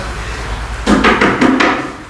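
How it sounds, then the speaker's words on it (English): Several sharp knocks land on a wooden door in a fairy-tale scene, four or five raps in a quick uneven run, fairly close and loud over a quiet background. "She knocked on the door."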